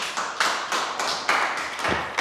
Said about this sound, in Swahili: Patia deacon wetu makofi mazuri.